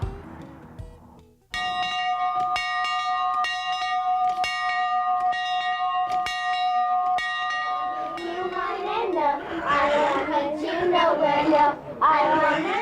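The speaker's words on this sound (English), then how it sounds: "The bell marks the start of a new day at Camp Woodmont." A camp bell at Camp Woodmont in Cloudland, Georgia, rings with steady, evenly spaced strokes that are loud and close, each stroke leaving a long ringing tone. Children's voices and general bustle then swell up beneath the last strikes.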